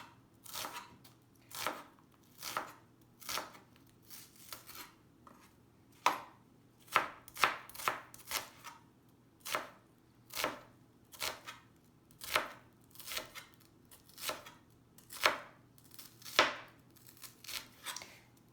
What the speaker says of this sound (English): So you just want to cut it really small like this.